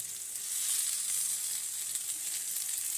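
Mustard, green chilli, ginger and garlic sizzle steadily in a hot pan of oil while a small-fish dish cooks, a close, even frying hiss with no speech.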